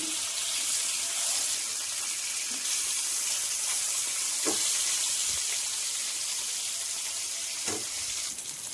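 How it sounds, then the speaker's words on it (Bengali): Pieces of rohu fish fry in a pan with a steady, close, continuous sizzle and crackle, broken by a few soft taps, with no talking. "মাছের পিসগুলো পারফেক্টলি ফ্রাই করে নিয়েছি"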